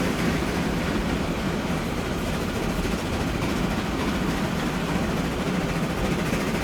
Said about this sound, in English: There's another passenger train in there, as well as a cargo train.